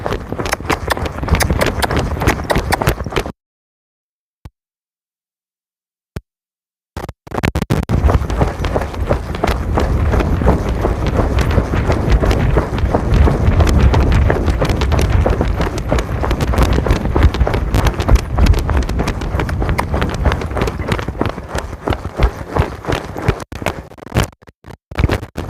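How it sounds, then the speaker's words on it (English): A horse named Punkin trots and lopes uphill, hooves drumming in a steady fast rhythm over heavy wind buffeting the microphone, broken by a few seconds of silence early on. "Using the uphill to get her to go into a lope because she wants to go faster."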